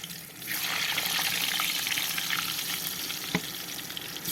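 Potatoes for French fries sizzle and crackle steadily in hot oil in a kazan, a loud continuous frying hiss with a brief clatter near the end; no one speaks.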